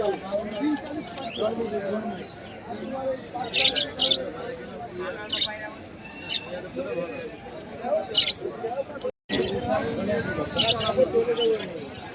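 Pigeons at a busy bird market in Bongaon, with coos, chirps and fluttering mixed into constant crowd chatter, and people talking and haggling close by throughout.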